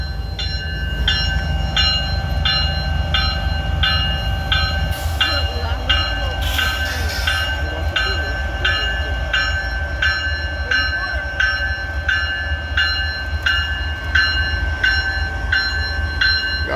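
Northbound train at Abbeville pulling out on a clear signal, with a steady low rumble and rolling wheels, a regular rhythmic ringing like a crossing bell or wheel clicks, and brief speech in the background.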